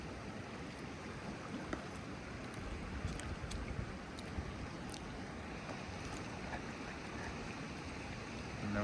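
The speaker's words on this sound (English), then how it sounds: "Babbling Brook, Pecos Mountains, you know." A babbling brook in the Pecos Mountains of New Mexico gives a continuous, even rush of flowing water, moderately near and steady throughout with no voices.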